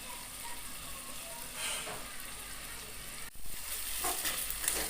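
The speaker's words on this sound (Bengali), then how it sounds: "সমস্ত মশলা দিয়ে এবার ভালো করে কষিয়ে নিতে হবে মশলা কষার সময় দিয়ে দিচ্ছি টমেটো কেচাপ" Spice masala with Kashmiri red chili powder and tomato ketchup is stir-fried in a pan for soybean pulao, giving a continuous close sizzle with occasional scraping of the spoon through the mixture.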